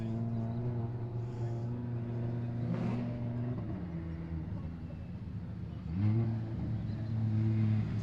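A race car engine at a drag racing event holds a deep, steady drone, then drops in pitch and rises again in a rev, sounding fairly close with crowd and ambient noise underneath.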